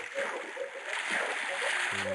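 A splash into water in the video game Minecraft, a soft watery splatter with gurgling over steady game background sound, fairly quiet, with a brief tonal game noise near the end.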